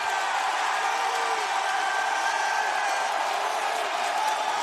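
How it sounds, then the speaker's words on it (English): Dense arena crowd at an AEW Dynamite wrestling match roaring and cheering continuously, a loud sustained wash of voices with no lulls. "Wow, listen to the fans."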